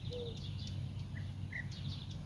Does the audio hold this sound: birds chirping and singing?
yes